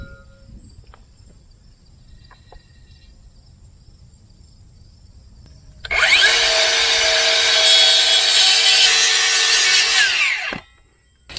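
After several quiet seconds, a power saw starts making a cut for a sign installation, running loud and steady for about four seconds before it winds down and stops.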